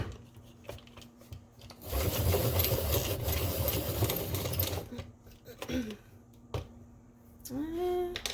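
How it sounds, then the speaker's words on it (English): A colored pencil being sharpened, a continuous grinding whir lasting about three seconds, close and fairly loud, with a person talking before and after it. "Gotta sharpen again."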